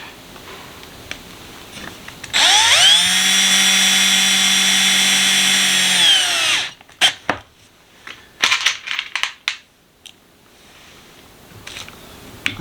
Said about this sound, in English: Now we just stick our screws in from the back side.